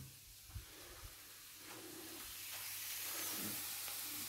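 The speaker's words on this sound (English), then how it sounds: "lovely and sizzly." An omelette sizzles in a frying pan, a steady soft hiss with faint crackles that swells slightly toward the end, heard quietly and close with no talking.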